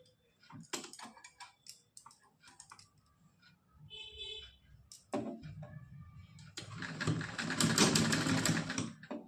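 A sewing machine stitching a small cotton doll dress, heard as quiet intermittent mechanical ticking and short whirring bursts, then a louder continuous run of stitching near the end.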